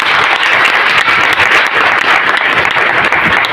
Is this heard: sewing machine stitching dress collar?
no